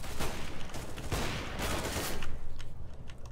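Negev machine gun firing in a first-person shooter video game, a dense, continuous burst of rapid automatic gunfire with no pauses, loud and close throughout.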